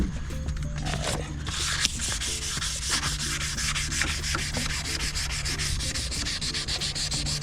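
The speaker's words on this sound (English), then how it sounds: "Just make sure you give it a good thorough sanding to make sure all of the yellow comes off your headlight." Steady rhythmic sanding of a yellowed car headlight lens, a rapid back-and-forth rubbing scrape close by, continuing without a break and with no talking.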